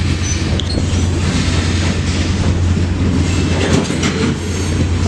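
A freight train car rolls along the track with a steady, loud low rumble and faint clickety-clack throughout, no voices.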